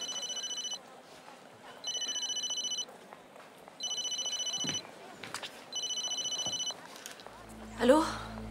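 A telephone rings in repeated two-second bursts of a bright electronic trill separated by short gaps, four rings in all, with faint background noise and a clatter as it is picked up at the end.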